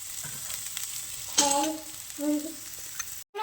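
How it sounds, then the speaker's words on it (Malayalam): Grated coconut sautéing in a pan for Kozhikode-style stuffed squid: a soft continuous sizzle with a few scraping stirs, close and moderately quiet, with no talking. "നമുക്ക് തേങ്ങ ഒന്ന് വഴറ്റെടുക്കാം ഇതിലേക്ക് കുറച്ച് തേങ്ങ ഇടങ്ങുവാണ്"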